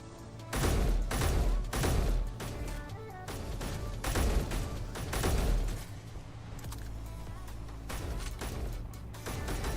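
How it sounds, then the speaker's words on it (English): Heavy repeated gunfire at a gun range in Space Engineers booms in loud, closely spaced bursts over a steady low hum, continuing through the whole stretch. "I was shooting. I got trigger happy."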